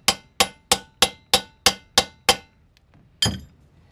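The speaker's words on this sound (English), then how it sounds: "So the first thing is to hammer these in real good." Eight sharp metallic strikes in a steady, quick rhythm, a short pause, then one final louder blow, like hammering on metal close by, while freeing frozen bolts on a motorcycle rear wheel.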